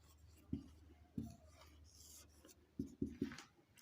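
Pen writing out a matrix math solution during a class 12 lesson, heard as several short, close scratchy strokes and taps separated by pauses in a quiet room, with no talking.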